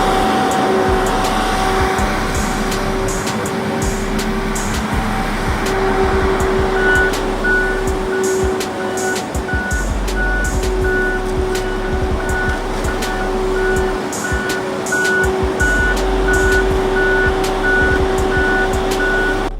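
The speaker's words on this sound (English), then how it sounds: "we have the powerful John Deere Feller Buncher in action" A John Deere feller buncher harvesting trees in a forest, its heavy engine droning steadily with hydraulic whine, a sustained tonal hum and intermittent mechanical clatter throughout, loud and close with no speech.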